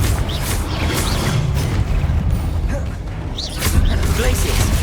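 Spell-casting effects in the Hogwarts Legacy video game, a Confringo fire spell among them, with repeated whooshes and booming impacts layered over dense, loud game audio.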